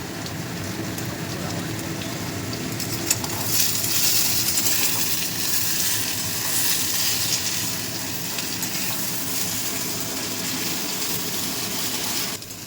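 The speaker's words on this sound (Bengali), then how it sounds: "আগে পটলগুলো একটু ভেজে নিচ্ছে, একটু নুন আর হলুদ দিয়ে ভাজবো" Pointed gourd pieces frying in oil with salt and turmeric give a steady, close sizzle that crackles on without a break and with no talking.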